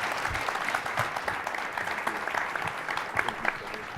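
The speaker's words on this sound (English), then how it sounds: "Please give the panel a great round of applause." A room of people at a panel event applaud steadily, with dense, continuous clapping for the whole stretch.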